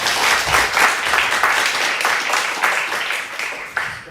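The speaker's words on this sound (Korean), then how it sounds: "박수하겠습니다" A church congregation applauds during a Sunday service, the steady, fairly close clapping continuing without a break throughout.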